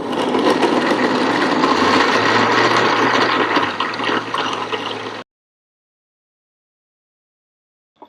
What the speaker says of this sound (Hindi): अब हम इसे ब्लेंड करेंगे।